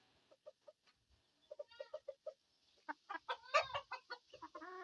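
A hen that is about to go broody, sitting on ten eggs, gives soft scattered clucks that build into a louder burst of clucking, close by with no talk.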